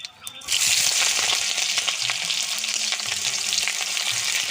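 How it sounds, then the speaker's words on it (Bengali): Dried red chili, whole cumin, green chili and chopped onion hiss and sizzle loudly in hot mustard oil, a steady close-up frying roar that starts abruptly and continues without talk. "একটু ভেজে নেব।"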